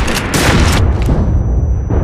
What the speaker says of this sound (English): I'm shooting it with all my rockets.